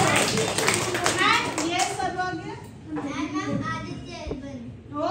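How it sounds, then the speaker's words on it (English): Young children in a primary classroom clap together in a burst of applause, with a voice and classroom chatter mixed in over the clapping. "Again clap for yourself."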